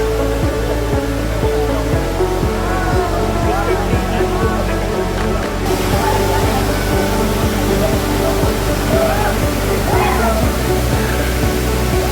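A waterfall in Uttara Kannada, Karnataka, roars with a steady, loud, broadband rush of falling water that runs unbroken, while people talk over it.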